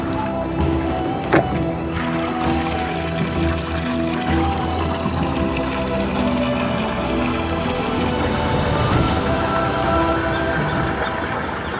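Steady rushing water from a mountain spring spout pours and splashes continuously, loud and close, with a constant spattering texture and no voices.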